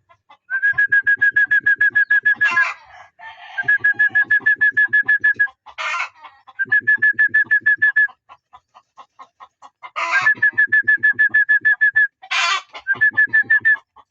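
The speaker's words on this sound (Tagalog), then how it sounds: "Bali may ibon nga dito, di ko lang alam kung alin yan." A bird repeats a long, rhythmic whistling call several times, each phrase cut by brief sharper squawks, with quiet gaps between.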